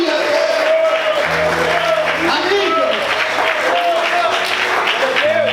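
Church congregation applauding during a sermon, sustained dense clapping filling the room, with crowd voices and a low hum or tone mixed in beneath it.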